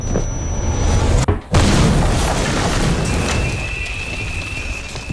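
A heavy, roaring explosion rumbles with deep booming energy, briefly cutting out, then continuing as a dense wash of debris and rumble.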